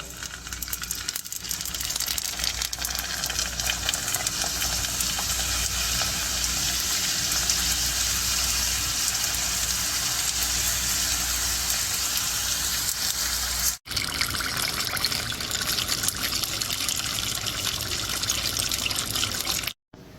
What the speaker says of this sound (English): so we're going to start frying these up